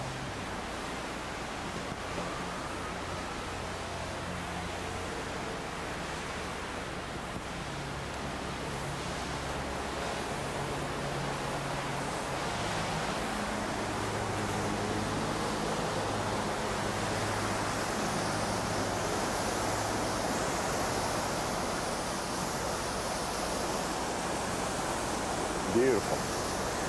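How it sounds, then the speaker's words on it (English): A small waterfall on the Ramsey Cascade hiking trail, with water rushing over rocks as a steady, dense, close wash of noise that holds constant throughout and swells slightly toward the end. "Just the water rushing over some of these rocks, isn't that beautiful?"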